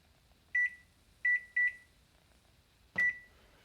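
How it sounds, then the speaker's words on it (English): A kitchen timer being set for eggs frying in a covered pan gives four short, sharp electronic beeps: one, a close pair, then a last one after a pause, alone in a quiet room. "And set a timer"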